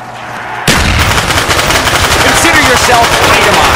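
A gun firing in Black Ops 2 Zombies, a sudden, very loud burst of rapid automatic fire that starts abruptly and keeps going steadily, close and dense, with a voice speaking over it.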